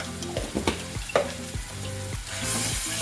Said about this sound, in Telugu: ఆనియన్ ఫ్రై అవుతుందండి